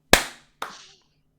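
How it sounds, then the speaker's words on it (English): Two sharp hand claps about half a second apart, close and loud in a quiet room, the first stronger, each with a short decaying ring; made as a sync marker after a countdown. "So it'll be 3, 2, 1, and then a clap."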